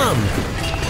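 An orange toy truck smashes into a stack of sixteen toy blocks set in front of a giant number 16, giving a sharp clattering crash followed by scattered knocks of tumbling pieces.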